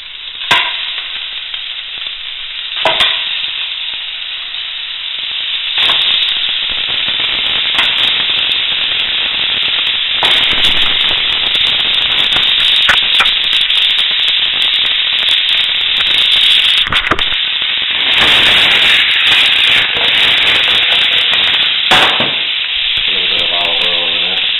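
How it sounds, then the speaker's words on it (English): Rib meat browning in a pan for Spanish arroz al horno, a loud, close, continuous crackling sizzle with sharp spattering pops throughout and no talking. "Next, we're going to brown the rib meat."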